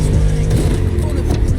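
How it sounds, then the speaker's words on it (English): A V8 car engine in The Crew Motorfest racing game revs hard and loud, with a deep throaty growl through the short burst and a voice faintly present underneath. "Just listen to that V8 like a chunky, down-tuned guitar riff."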